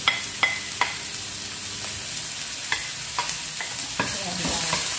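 Onion, ginger and garlic sizzle in a pan for a spinach lentil dal, a steady hiss broken by sharp clicks of a utensil scraping and tapping the pan, close and without voices.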